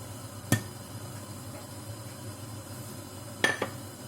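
A frying pan, or kawali, handled on a stove: two sharp metallic clinks a few seconds apart, the second followed by a lighter knock, close and clear over a low steady background hum.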